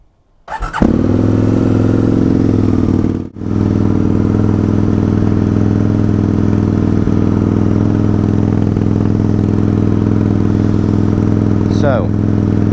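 An Aprilia RSV Mille R motorcycle on the Isle of Man starts on choke and settles into a loud, steady, high idle with one brief dip, running close and continuous with no talk over it.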